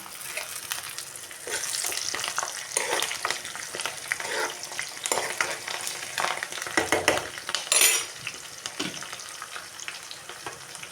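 Onions, tomatoes, green chillies and curry leaves fry in a pan, a close crackling sizzle with frequent clattering spatula strokes and scrapes throughout, busiest around the middle.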